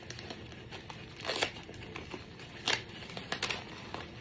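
Packing tape peeled off a cardboard package during an unboxing, giving a few crinkling, tearing bursts with short pauses between them, close and fairly quiet, no talk.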